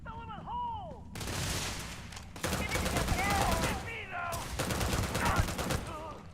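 Gunfire in the video game Starfield rattles in dense, continuous bursts of rapid shots, loud and up close, with bright whistling and warbling energy tones over the top.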